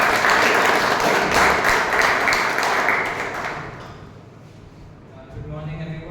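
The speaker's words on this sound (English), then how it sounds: "A big round of applause," Audience applause at a Toastmasters club meeting fills the room loudly, then fades over the last seconds as a voice begins speaking.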